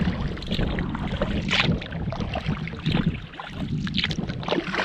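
A canoe is paddled across Magnetawan Lake in Algonquin Park in spring: close paddle strokes splash and gurgle through the water in a loose rhythm, with wind noise rumbling on the microphone throughout.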